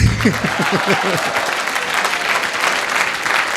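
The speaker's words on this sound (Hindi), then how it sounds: "बजा लो ताली।" Applause from students in a hall at a farewell lecture fills the space, steady and dense after a short voiced phrase at the start.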